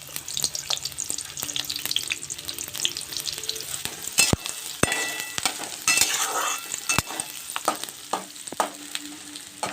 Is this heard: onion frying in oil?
yes